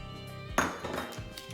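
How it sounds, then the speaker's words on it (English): A utensil stirs cumin, chili powder, onion powder, garlic powder and paprika into food in an Instant Pot, giving one sharp metallic clink followed by a few quieter scraping knocks against the inner pot, all fairly faint. "Mix it all together."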